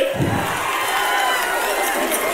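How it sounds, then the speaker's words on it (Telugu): A large crowd at a Telugu Desam Party political rally in Rajampeta roars and cheers with a dense, continuous wash of voices and claps, loud and close for the whole stretch. "గట్టిగా చప్పట్లు కూడా చెప్పండి"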